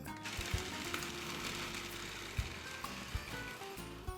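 A food processor grinds pistachios with salt into pesto, giving a steady, gritty whir that holds for a few seconds with small knocks from the nuts.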